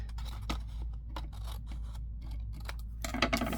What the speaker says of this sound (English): we'll just use my scissors to cut it